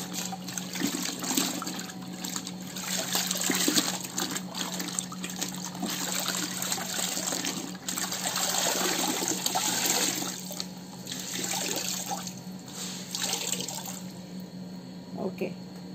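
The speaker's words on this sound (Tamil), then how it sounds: "இது வந்து மறுபடியும் இது புது தண்ணி தான், தண்ணி எடுத்துகிட்டு வந்திருக்கிறது." Fresh water poured and trickling into a container for a colour fade test on a nightie, a steady splashing flow that runs close and continuous throughout.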